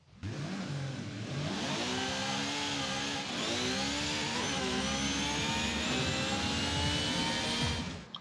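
A stock Ferrari FXX K Evo in Forza Horizon 5 revs up and accelerates, its engine note climbing steadily through gears in a loud, continuous high-pitched wail with no talk.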